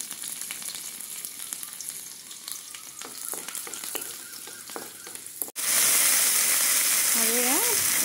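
Garlic, fenugreek seeds and chilli hit hot oil. Scattered clicks and light crackling give way midway to a sudden, loud, sustained sizzle close by, and a brief voice sounds near the end.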